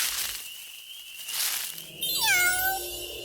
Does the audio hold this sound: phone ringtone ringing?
no